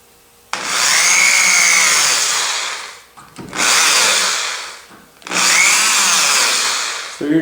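An electric drill bores holes through wood while building a fleshing beam, three loud whining runs separated by short pauses, each pitch bending as the bit bites, with no talk.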